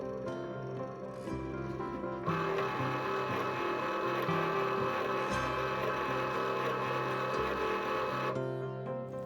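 A Cricut Maker cutting machine runs with a steady mechanical hum and shifting whirring motor tones, growing louder midway and continuing for several seconds, fairly quiet overall with no voices.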